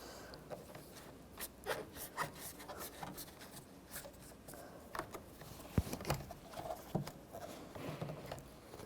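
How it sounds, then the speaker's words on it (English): Replacement side mirror on a 2006-2010 Volkswagen Jetta being slid into place, giving close, steady scraping and rubbing of plastic parts with small clicks and knocks. "Now take the new mirror, slide the wiring harness through. And just kind of slide this in position."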